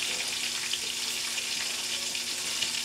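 Chicken pieces frying in a pan for a Spanish chicken dish, a dense, steady hiss and crackle of hot oil close up with no talk.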